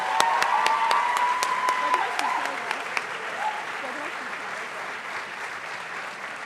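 School chapel audience at St. Johnsbury Academy applauding as the new student body president comes to the podium, steady loud clapping from a full room with a voice briefly over the start.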